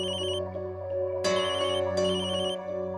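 A telephone rings inside a home with an electronic ringtone. Two bright, sharp bursts sound over a steady, tonal background, and no one speaks.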